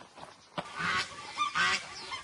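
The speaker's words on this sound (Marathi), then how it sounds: "दोन बदक आहेत आजूबाजूला" Two or three short, nasal duck quacks sound close by on a farm, spaced apart against a quiet background.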